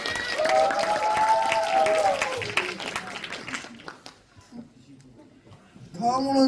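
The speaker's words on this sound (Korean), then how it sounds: "박수 부탁드립니다." Audience applause at a university rehabilitation and independence department academic festival, a steady wash of clapping that fades out midway, followed by a voice beginning to speak.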